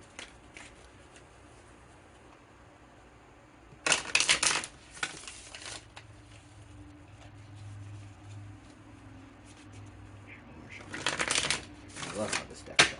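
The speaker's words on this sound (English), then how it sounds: "I love how this deck shuffles" A tarot card deck is shuffled in a quiet room, with two distinct bursts of crisp, rapid riffling and flicking, each lasting a second or two, separated by near-silence.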